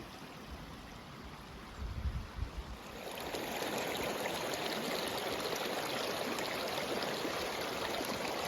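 A small stream along a Mount Rainier hiking trail babbles in a steady, close rush of water, rising to a fuller, louder flow after a few seconds of lighter trickling and footsteps.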